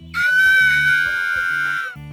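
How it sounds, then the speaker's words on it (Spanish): A cartoon character's long, loud, high-pitched scream, held for nearly two seconds over a rhythmic music beat, with no talk. "Esto claro, para hacernos gritar como Flanders."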